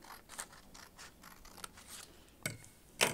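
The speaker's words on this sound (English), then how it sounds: "So you have to just cut a triangle" Scissors cutting a paper triangle for an origami tree, a quiet series of close, scratchy snips and rubbing strokes with a couple of sharper cuts near the end.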